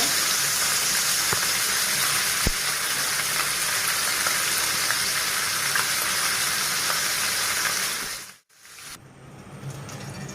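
Chopped onion, garlic and green chili sizzle steadily in hot oil in a home kitchen while fish curry with taro is made, a loud, dense hiss that runs unbroken before briefly dropping away near the end and returning.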